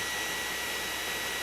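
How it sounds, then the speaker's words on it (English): A modified shop vacuum drones with a steady, loud airy roar as it sucks up honey bees from a porch post in Grove City, Ohio, with no pauses or changes in pitch. "Will uses a modified shop vacuum system that sucks up the bees"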